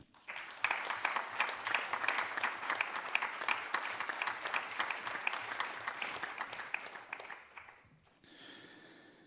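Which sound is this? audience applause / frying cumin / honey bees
audience applause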